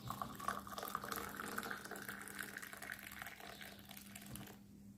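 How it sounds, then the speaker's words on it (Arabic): A cup of boiled water pours over coarse cumin in a steady, gurgling stream for several seconds, close and moderately loud, then cuts off abruptly at the end. "هننزل عليه برده بكوبايه ميه كده اهوت، كوبايه ميه مغليه كده"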